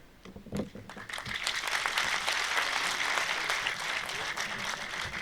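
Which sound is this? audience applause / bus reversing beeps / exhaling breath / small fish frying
audience applause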